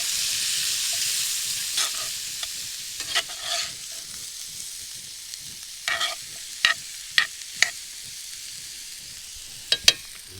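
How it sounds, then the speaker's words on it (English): Bacon fries in a pan while camping from a truck, a soft steady sizzle punctuated by sharp utensil scrapes and clinks as it is stirred, close and without talk. "Give this a stir. We'll add in our bacon and then a couple eggs on top."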